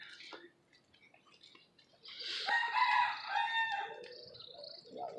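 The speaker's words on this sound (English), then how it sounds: "Hear that rooster?" A rooster crows once, fairly close and clear, during an outdoor walk along a road. Faint clucks and ticks come before it, and another short call follows at the end.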